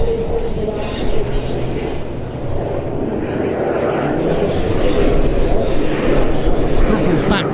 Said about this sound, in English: Now a slow fly past.